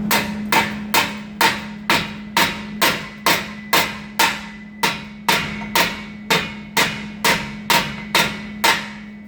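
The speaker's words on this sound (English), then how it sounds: "Just take my hammer and tap it in there a little bit." A hammer taps an exhaust test pipe into place on a Silverado 2500HD about twice a second in a steady, even series of sharp ringing metal taps, loud and close, with no talking.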